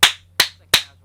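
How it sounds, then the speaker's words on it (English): Three separate sharp claps, evenly spaced about a third of a second apart, each loud and close with a quick decay, over a faint low steady hum. "round of applause to CharlieIntel and to Infinity Psych Ward"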